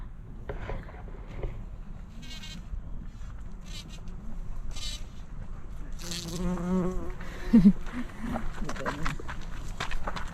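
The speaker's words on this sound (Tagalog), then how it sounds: "Yan, palipat-lipat na lang yung bubuyog." A bee moving between flowers in a botanical garden in Akureyri, Iceland, its hum rising and fading as it moves, with rustling and occasional voices in the background.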